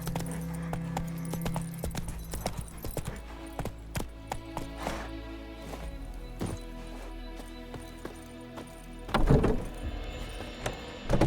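Horse hooves clip-clopping in a steady galloping rhythm while riding in The Witcher 3, close and fairly loud, with occasional clunks and a louder burst near the end; no talking.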